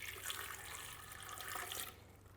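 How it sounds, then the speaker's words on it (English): One cup of water poured into a blender, a steady splashing stream of liquid that stops abruptly near the end. "next I'm adding 1 cup of water"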